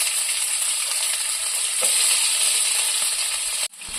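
Chopped onions frying in a pan of oil with whole spices for a mushroom gravy, a steady bright sizzle close up, with a soft stir midway and a sudden drop near the end.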